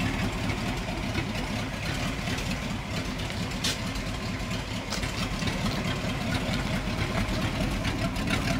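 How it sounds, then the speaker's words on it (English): A 1970 Ford F100 with a 351C V8 and Genie extractors idles loudly with no mufflers, a steady deep rumble that runs unbroken throughout at close range. "It hasn't got any mufflers, that's why it's so loud."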